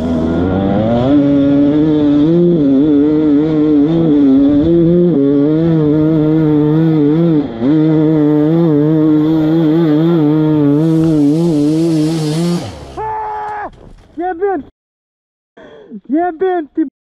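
An enduro motorcycle accelerating off-road, its engine droning loud and close for a long stretch, then breaking into short, choppy revs and bursts.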